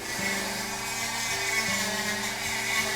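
A power drill grinds into band-sawed tupelo wood from Louisiana during a carving job, a steady close whine that dips and restarts in short pulses over about three seconds.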